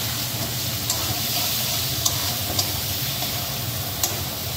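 Masala being stir-fried for a mushroom curry, a low continuous sizzle with occasional soft clicks of a spatula against the pan, close but fairly quiet, with no talking.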